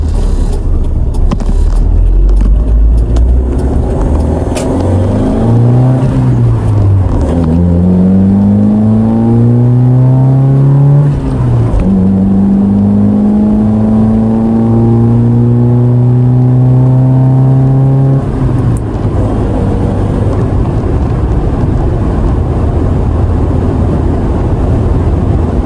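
A mini truck with clutch trouble is floored, its engine climbing through several long, loud rising revs in repeated waves as the speed builds, with no talk over the roar.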